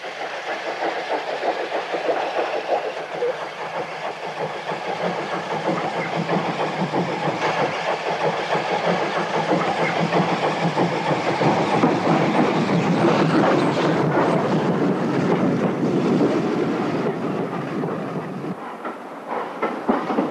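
A British Railways steam train rolls into Yeovil Town station with a continuous rumble of carriages and a rhythmic clickety-clack of wheels, heard close and loud, fading slightly at the end.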